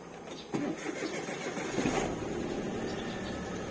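Chery QQ 308 engine cranking and catching, then settling into a quiet steady idle, heard close and fairly faint.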